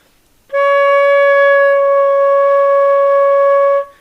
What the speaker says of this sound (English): these are like wood flute kind of sounds